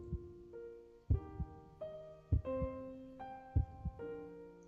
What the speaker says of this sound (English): The sound of a heavy, slow heartbeat gradually resonates in the ears of everyone present